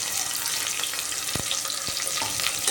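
Onions and green chillies frying in hot oil in a pressure cooker for chicken biryani, a dense continuous sizzle with a few sharp stirring knocks, close and fairly loud, no talk.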